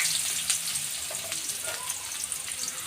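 Onions frying with mustard seeds and cumin in a pan for mushroom curry, a soft crackling sizzle with scattered pops, fairly quiet and close.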